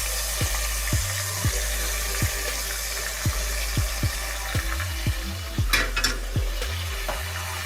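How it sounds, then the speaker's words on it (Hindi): Garlic-ginger paste fries in hot oil in a pan while being cooked for fish biryani. A steady close sizzle runs under repeated rhythmic clinks and scrapes of a stirring spoon. "अब इसको फ्राई करूँगी तेल में।"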